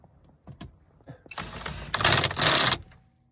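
Ratchet or driver tightening spacer nuts on a Toyota Highlander steering wheel hub, a burst of clicking and whirring that rises in two loud spells before stopping, with faint handling taps first.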